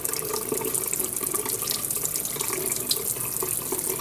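Tap water runs steadily from a faucet into a sink while flushing ink out of a fountain pen, a continuous close splashing wash with no talk over it.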